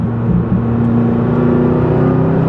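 A McLaren 570S engine hums steadily from inside the cabin while cornering, with a low droning tone and a subtle shift in pitch as it drops a gear, a constant close drone with no voices.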